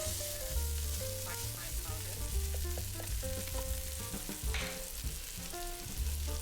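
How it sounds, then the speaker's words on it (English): Chicken stir-frying with five spice powder and fried shallots in a pot for a zongzi filling, a soft steady sizzle under prominent background music. "Give this all a good mix and stir fry for about 1 minute"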